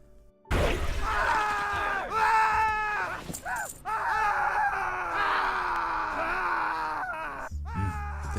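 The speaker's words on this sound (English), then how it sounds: "Just listen to these screams." Captured humans in World of Warcraft's Hillsbrad Foothills scream and wail in long, sustained, anguished cries that overlap one another continuously, loud and close, with a short break midway.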